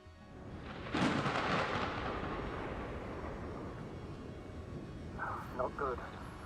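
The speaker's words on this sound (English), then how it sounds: "Storm front is approaching the location." Thunder from an approaching storm in The Invincible rolls in with a sharp crack, then a long, low rumble fading slowly, with a brief electronic beeping near the end.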